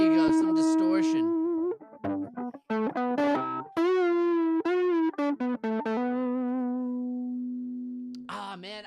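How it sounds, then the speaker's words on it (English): An electric guitar played through a distortion effect rings out in sustained, buzzing notes and short phrases, close and loud, ending with a long fading tone. "There you go, some distortion."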